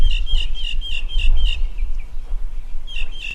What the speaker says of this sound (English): I listen to the birds.